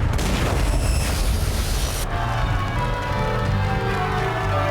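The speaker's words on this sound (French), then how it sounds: "Qu'est-ce qui a causé cette explosion?" A bomb explosion at a wedding: a loud, sustained broadband roar and rumble filling the whole span, its hissing top end cutting away abruptly midway while the low rumble continues.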